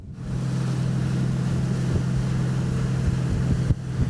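A Ranieri Next 290 SH motorboat cruises at a low speed of about 15 knots, with a steady low engine drone, water rushing along the hull and a faint wind wash throughout.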